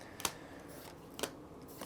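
Two quick, crisp scissor snips cut into a One Piece trading card pack, each a short sharp click about a second apart in a quiet room.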